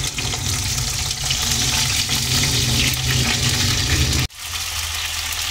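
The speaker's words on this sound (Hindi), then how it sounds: "और अब इसमें हम सेम डाल देते हैं।" Green beans dropped into hot oil with cumin and asafoetida sizzle loudly in a dense, hissing burst up close, then the sizzle cuts off abruptly and resumes more quietly.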